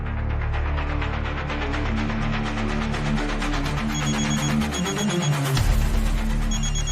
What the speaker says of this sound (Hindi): ये लीजिए, दीवान सोलंकी का ही फोन है, बात करेंगे आप?